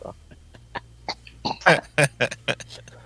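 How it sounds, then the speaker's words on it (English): A few short coughs burst out close up, followed by throat-clearing noises in a quick irregular cluster. "Cough."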